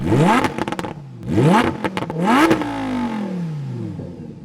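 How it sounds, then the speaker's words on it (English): A 640-horsepower Lamborghini Huracan EVO V10 fires up and is blipped three times, each rev a sharp rising roar that crackles off, then settles into a lower, fading idle, loud and close. "The engine. It now has 640 horsepower and 600 Newton, just like the Performante. Let's start it up"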